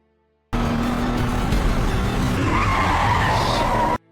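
Car tires skid and screech loudly for about three and a half seconds, a sustained harsh squeal with engine noise beneath, starting and stopping abruptly.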